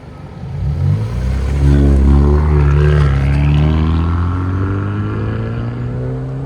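A 2016 Kia Optima SXL Turbo with a NETAM NTR race muffler pulls away hard, engine note climbing steadily through the rev range as it accelerates, loud and close with a smooth rising exhaust drone.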